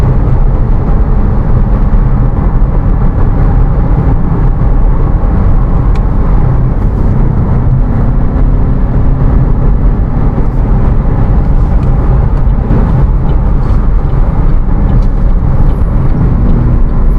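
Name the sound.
Citroen C3 Aircross engine accelerating during test drive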